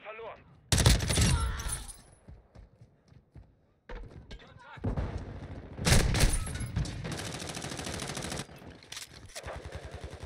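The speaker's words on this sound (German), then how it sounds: "Ich werde beschossen" Bursts of gunfire in a Modern Warfare 2 video game match, sharp loud volleys with rapid automatic shots and short gaps, while voices talk over them.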